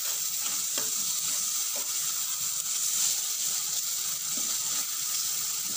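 Chili powder and masala spices frying in oil for a small gulivinda fish pulusu, a steady close sizzle with faint stirring clicks running continuously without pause.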